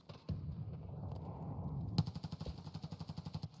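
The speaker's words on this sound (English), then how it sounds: "Testing the waters with a grenade." A grenade goes off in Escape from Tarkov with a sharp close blast around the two-second mark, followed by a fast rhythmic burst of repeated gunshot-like pulses that run to the end.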